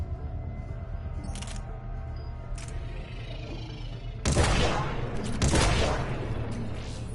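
Disciple shotgun firing in Mass Effect 3, two loud, broad blasts a second apart with lingering noisy tails, after a stretch of quieter ambience and a few faint clicks.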